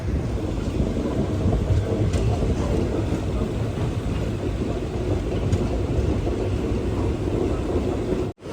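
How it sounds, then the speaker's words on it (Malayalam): Rajya Rani Express running toward Mandya station on the Bengaluru–Mysuru line, a steady loud rumble of the moving train with continuous wheel and carriage noise, unbroken throughout and ending abruptly. "ട്രെയിൻ ഇപ്പം മണ്ഡ്യ റെയിൽവേ സ്റ്റേഷനിലേക്ക് ഇതാ എത്തുകയാണ്"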